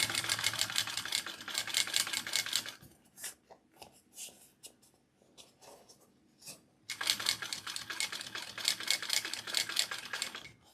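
A sewing machine stitches a second reinforcing row beside the first, with rapid rhythmic needle chatter. It runs steadily, stops for a few seconds of quiet handling clicks, then starts again at the same pace.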